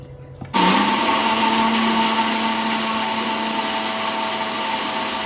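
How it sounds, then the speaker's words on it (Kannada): A kitchen mixer grinder powdering fried ingredients kicks on abruptly after a brief quiet moment, then runs as a loud, steady high-pitched whirring whine close by. "ಮಿಕ್ಸಿಗೆ ಹಾಕ್ತೇನೆ, ಪೌಡರ್ ಮಾಡ್ತೇನೆ."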